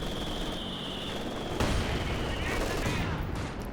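Dense, rumbling bursts of gunfire and explosions from a Company of Heroes 2 match, including mortar fire, crackle on without pause, loud and layered, with a sharp impact partway through.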